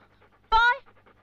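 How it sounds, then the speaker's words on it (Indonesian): A dog gives one loud, close bark in a quiet yard, a single sharp burst with near silence on either side. "Tiba-tiba saja Boy menggonggong."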